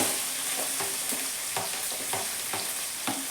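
Chopped onion fries in a pan for ridge gourd sambar, a steady sizzle with repeated spoon strokes scraping and stirring at an even pace, close and alone.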